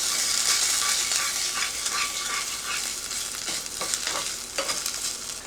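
Tomato paste toasting in oil in a pan, a loud bright sizzle with repeated scraping stirs of a utensil against the pan, close and uninterrupted by voices.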